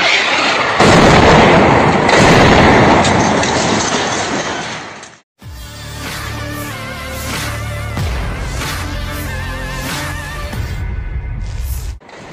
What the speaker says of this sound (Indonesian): Rekaman detik-detik bom berjatuhan beredar di Telegram pada Senin 22 April 2024